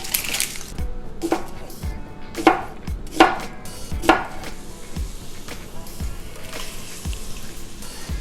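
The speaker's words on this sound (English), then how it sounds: "You don't have to chop it finely," Knife roughly chopping a large brown onion on a board in a home kitchen, a few distinct sharp chops spaced about a second apart amid quieter cutting and handling sounds.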